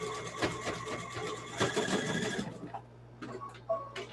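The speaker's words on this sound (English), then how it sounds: "I'm just going to zigzag right here rather than jump cameras" A sewing machine zigzag stitches a zipper-by-the-yard seam, a steady mechanical whirring run up close for about two and a half seconds before stopping, followed by a few faint handling clicks.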